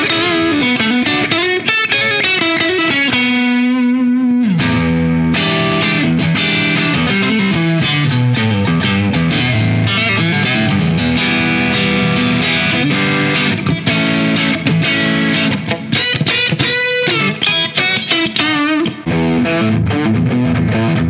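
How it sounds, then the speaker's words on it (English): Henry's ST-1 Strat electric guitar with a humbucker pickup, played through an overdrive pedal: loud, distorted chords and sustained notes ring out continuously for the whole stretch, with no talking. "Let's enable an overdrive pedal."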